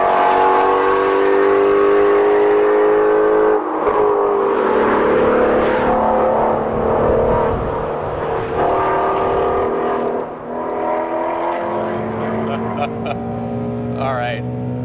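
A Mustang Shelby GT350R's naturally aspirated flat-plane-crank engine revs hard and loud up toward redline, with a rising, raspy, gargling snarl that dips and then climbs again, heard close from inside the car.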